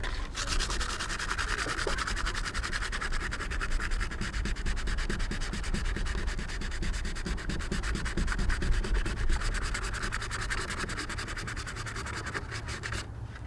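Scratched car paint being sanded by hand with 220 grit sandpaper, giving a close, continuous rapid back-and-forth rasping scrub that stays steady and loud throughout with no talking.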